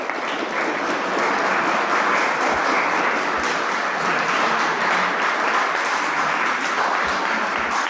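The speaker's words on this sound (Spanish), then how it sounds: "Un aplauso." Audience applause after a university lecture: dense, steady clapping from a crowd in a hall, sustained at even loudness throughout with no pause.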